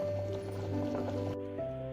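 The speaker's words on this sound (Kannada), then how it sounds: "ಚೆನ್ನಾಗಿ ಕುದೀತಾ ಇದೆ." A pot of vegetable saagu curry bubbles on the stove with soft, close liquid gurgling and popping, steady and quiet, with no voices over it.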